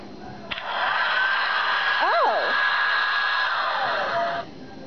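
A hair dryer whirs with a steady high-pitched hum for about four seconds, briefly overlapped by a voice, then switches off.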